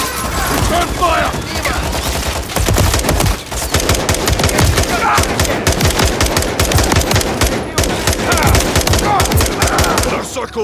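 Sustained automatic gunfire from the video game Flashpoint, dense rapid bursts and fusillades continuing loudly throughout with brief lulls, a voice partly audible beneath the shooting.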